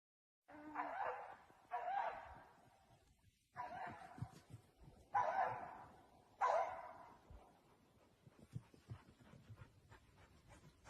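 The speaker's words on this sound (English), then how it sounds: "the dog was trying to hunt the rabbit" A hunting dog on a rabbit's trail lets out five loud, hoarse barks and bays spaced about a second apart, followed by softer panting, whimpering and rustling as it trails off.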